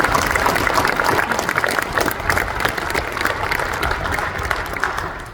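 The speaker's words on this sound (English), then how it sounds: "So please give them a round of applause." Audience at a Vietnam veterans memorial dedication in Papillion, Nebraska gives a sustained round of applause for the senators, dense and steady clapping from a sizable crowd that barely fades before the end, with no talking over it.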